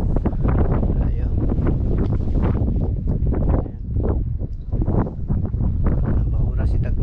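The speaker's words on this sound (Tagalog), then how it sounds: "Sumisipo lang hangin, grabe." Strong wind roars steadily and loudly across a sailboat near a reef, buffeting the microphone in continuous gusts with no clear break.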